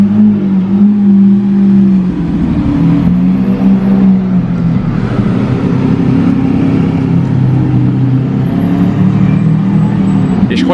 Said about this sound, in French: La SV qui revient, mais cette fois-ci suivi du Nitto Aventador.